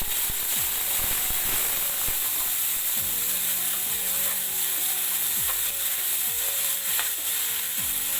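Garlic, onion, ginger and cumin paste frying in about two spoons of oil in a kadai, a steady close bright sizzle with scattered crackles and faint scraping of a spoon.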